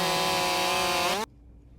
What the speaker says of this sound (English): Both saws just gnawing away at the wood